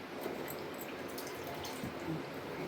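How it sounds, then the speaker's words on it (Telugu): Water trickling steadily into a bowl of jowar flour while roti dough is prepared, a continuous close, moderately loud watery hiss with faint drips, no talking. "వాటర్ వేసుకుంటాం"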